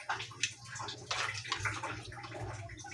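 Sliced garlic being washed in a basin of water, with steady splashing and sloshing as hands rub the pieces, close and continuous, along with a low background hum.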